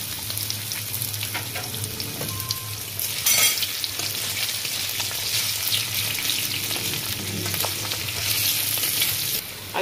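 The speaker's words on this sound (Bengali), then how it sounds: "ওই তেলে আমি একটু আলুগুলো ফ্রাই করে নেব।" Potatoes frying in hot oil left over from cooking chicken mince, a close, steady sizzle with bursts of crackling and a brief louder flare as they are stirred.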